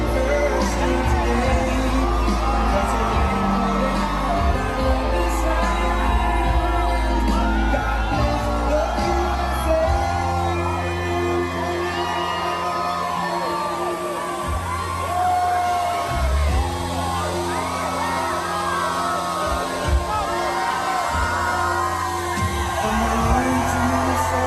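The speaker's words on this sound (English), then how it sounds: "just the way the crowd roars when he comes out" A huge Trump rally crowd roars, cheers, whoops and yells as he walks out, a dense sustained din of many voices with shifting swells and a brief lull partway through.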